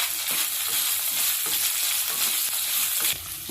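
Crushed ginger, garlic and sliced onion frying in a pan for egg chilli fry, a steady close sizzle with occasional stirring scrapes, continuous and fairly loud, no talking.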